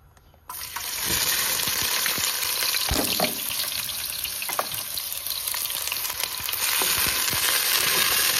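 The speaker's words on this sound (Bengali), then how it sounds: "এখন রান্নাটা বসায় দিই।" Puti fish curry with cauliflower and carrot sizzles steadily in a hot pan, a continuous close frying hiss with occasional louder pops and stirring clicks, no voices.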